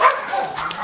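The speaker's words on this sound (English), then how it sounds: "a lot of dogs around here" Dogs barking nearby around a garden in Hawaii, a short yipping burst of barks, moderately loud and brief.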